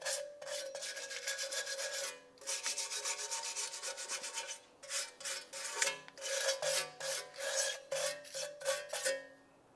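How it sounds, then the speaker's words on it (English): A wire brush scrubs the brake backing plate of a 1998-2002 Lincoln Navigator, harsh rasping strokes in fast back-and-forth bursts, first long continuous runs then shorter separate swipes, close and loud with no talking. "Let's continue on with a wire brush. We're going to clean up the backing plate."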